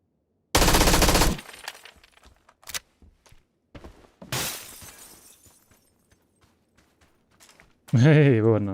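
Bursts of weapon fire in the battle-royale game PUBG: a loud blast, then scattered sharp cracks and a second heavy volley, ending in a distorted shout.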